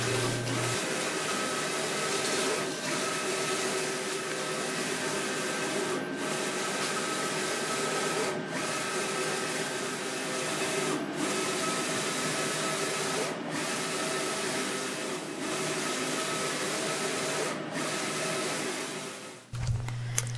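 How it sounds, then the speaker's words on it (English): A printer cutter producing wall graphics gives a steady, loud whirring hum, with a soft tick roughly every couple of seconds as the carriage moves. Close and continuous, with no voices. "Next, we sent the file to our printer cutter."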